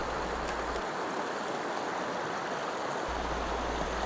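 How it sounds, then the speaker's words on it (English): Steady rushing water of a creek flowing over rocks downstream of an old mill ruin on Sope Creek, continuous and full, with no voices. "listen to the water"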